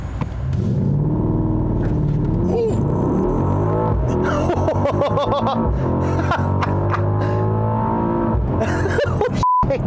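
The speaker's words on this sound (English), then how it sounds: "when you have a Mercedes-AMG product, you have to start out the driving scene with a launch control" A 2021 Mercedes-AMG GLE 63 S SUV launches hard under launch control, its engine roaring and climbing through rising revs with a shift near the end, loud and continuous, with a brief laugh heard.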